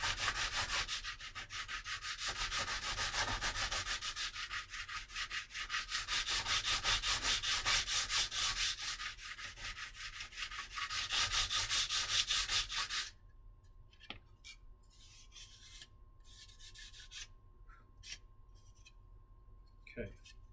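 Hand sanding with a foam pad, a steady scratchy rubbing in long continuous strokes up close, running loud for several seconds before dropping to quieter, sporadic scrapes.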